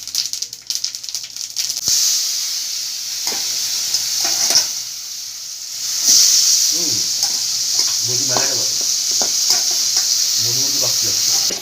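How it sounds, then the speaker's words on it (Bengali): Cumin seeds tempering in hot oil give a loud, steady sizzle with crackling pops, alone without talk, and the hiss swells sharply partway through. "জিরে ফোড়ন দিলাম।"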